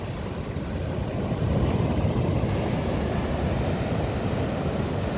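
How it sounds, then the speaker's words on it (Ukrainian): A stormy sea crashes onto the shore at Odesa as a continuous, loud, rumbling roar of surf, heavy and unbroken throughout. "Оце ти даєш, які хвилі, яке ти красиве."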